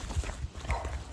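Dogs bark in a rural riverside village in Alfonso, Cavite, in summer, several short rough barks repeating amid outdoor noise at moderate distance.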